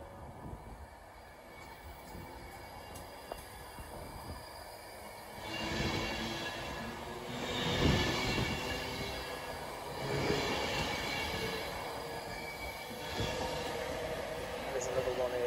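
A Class 390 electric train departs Wigan North Western for London Euston, its broad rumble and rail noise swelling in several waves over about ten seconds against steady station background.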